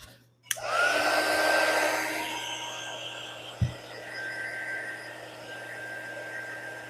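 A hair dryer blowing on freshly painted felt apples, switching on with a sharp click and then running as a steady, close, loud whoosh with a faint whine, a brief bump midway, no talk.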